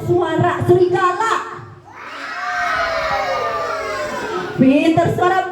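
A crowd of children at a Maulid Nabi storytelling session let out a long, rising, sustained group howl imitating a wolf, loud and near, with someone speaking briefly before and after.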